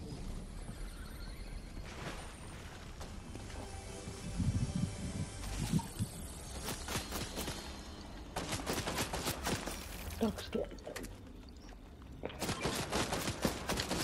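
Gunfire in Fortnite: scattered bursts of sharp shots and rapid volleys, some close and loud, some farther off, spread irregularly across the stretch with brief quieter gaps.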